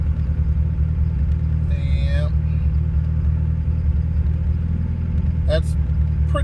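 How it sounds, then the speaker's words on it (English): A Mitsubishi Starion idles roughly after its fuel is cut back, a steady low engine rumble with an uneven shake running throughout, close and fairly loud, with brief sounds of a person in the middle and near the end. "you see now the car's acting a little funny. It's shaking more."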